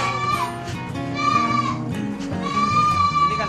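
Etawa (PE) goats bleat repeatedly beside a pen, their wavering nasal cries overlapping loudly and steadily with barnyard background.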